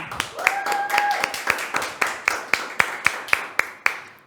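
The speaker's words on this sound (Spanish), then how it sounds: "Vamos a recibir con un aplauso" A studio audience at the Emprendefest 2023 entrepreneurship event claps to welcome a speaker, with steady, rhythmic hand claps landing about three times a second over a sustained tone and a faint voice.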